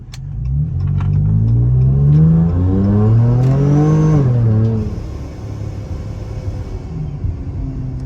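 A boosted 3.6 engine revs hard as the car accelerates and spins its big 305 rear tires. The tone climbs through several gears, loud and close, then drops to a lower steady drone.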